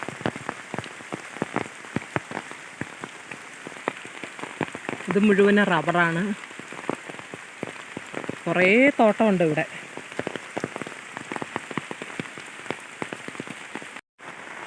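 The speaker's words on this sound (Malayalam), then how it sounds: "ഈ മഴയത്ത് കുടയും ചൂടി നടക്കാൻ നല്ല രസമാണ്" Dense patter of monsoon rain falling on surfaces nearby in a forest clearing, steady throughout, with two short stretches of a person talking over it.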